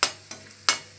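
Ingredients for spicy Schezwan chicken noodles being stir-fried in a kadai, with a few distinct scraping stir strokes over a steady low sizzle, close and alone.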